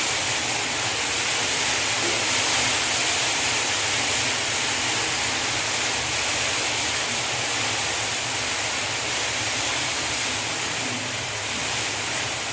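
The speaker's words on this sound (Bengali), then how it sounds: "ঝোলটা ফুটে উঠেছে, এখন আমি একটা একটা করে এগুলি দিয়ে দিচ্ছি।" Curry gravy for a paneer and papad dish bubbles at a steady boil in a pan, a dense, constant rushing hiss that holds loud and unbroken for the whole stretch with no voices.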